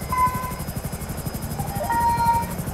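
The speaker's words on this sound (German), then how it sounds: "wir holen uns noch mal einen Heli" A helicopter in a video game whirs with a steady rapid rotor thump and engine drone, with a few electronic tones sounding over it and no talk.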